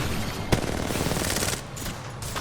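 Dense rapid gunfire crackles throughout, with one sharp louder shot early on, a busy firefight in Apex Legends.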